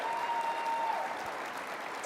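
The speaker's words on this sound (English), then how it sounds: "Please, let's give him a round of applause." An audience at the 2023 Hall of Fame induction gives inductee Victor Thomas steady, even applause from many hands, filling the whole short stretch at a constant level.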